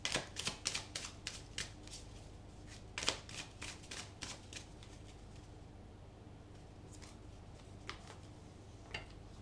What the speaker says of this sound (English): One last shuffle and I will have your cards.